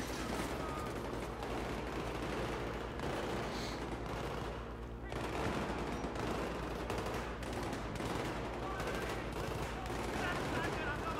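Rapid automatic gunfire in the video game Battlefield 3 runs continuously and loudly throughout, with dense overlapping shots and bursts and only a brief dip midway.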